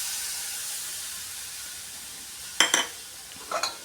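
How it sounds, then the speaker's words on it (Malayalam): Tamarind water poured into a frying pan of bitter gourd curry cooking over a low flame, giving two brief hissing sizzle bursts over a quiet kitchen background. "കുറച്ച് പുളിവെള്ളം ഒഴിച്ചു കൊടുക്കാം"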